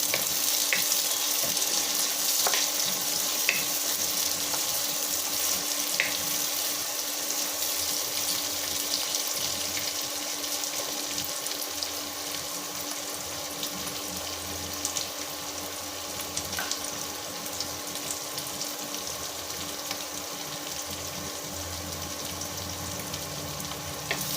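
A sprig of curry leaves sizzles in hot oil for a tamarind vathal kuzhambu, a steady close crackle and hiss that runs unbroken with no voices.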